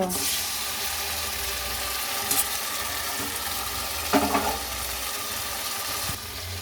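Mutton (goat meat) sizzles with fried onions in a pan in a steady, close hiss, with a couple of brief stirring clatters.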